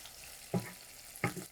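Rice and onions fry in a pan under a soft, continuous sizzle, with two distinct scraping stirs of a utensil in quick succession.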